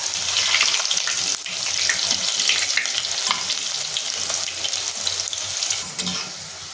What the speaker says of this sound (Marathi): इथे कढईमध्ये मी तेल गरम करून घेतलेलं आहे त्याच्यामध्ये आपल्याला डीप फ्राय करून घ्यायचं आहे